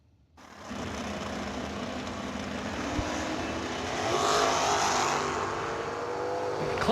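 Drag race cars launching and tearing down the strip, a sustained loud engine roar that swells midway and holds steady at a distance.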